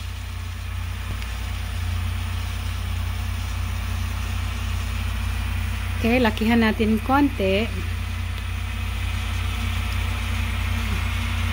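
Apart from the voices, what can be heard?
tractor engine running while gathering hay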